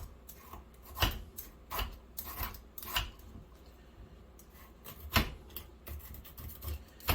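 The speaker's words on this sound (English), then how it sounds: "I keep using this potato peeler and keep making little small strips with it" A handheld potato peeler shaves thin strips from a sweet potato, giving sharp, close scraping strokes at an uneven rhythm with brief pauses between them.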